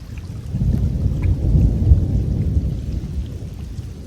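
A deep roll of thunder from a summer storm over a mountain lake swells and fades over a few seconds, low and rumbling, with rain pattering in the background.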